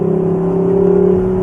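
2021 Lexus LC 500 Convertible engine, a steady held revving drone with strong tonal hum and a subtle pulsing beat, loud and close throughout.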